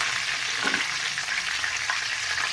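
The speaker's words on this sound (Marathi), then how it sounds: "दोन पड्या तेल घातलंय आता याच्यामध्ये ना थोडी मोहरी टाकायची" Mustard seeds sizzle in about two spoonfuls of hot oil, tempering for a tomato curry, with a steady close hiss and faint crackles throughout, and no voices.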